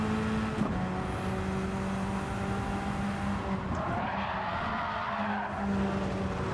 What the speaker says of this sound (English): Trying to make the car slide.